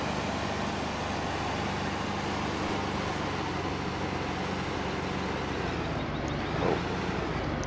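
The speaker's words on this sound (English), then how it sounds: "So this planter is revving this tractor," Tractor engine in Farming Simulator 15 revving steadily while pulling a planter across a bean field, a continuous broadband drone with a slight swell near the end, no talking.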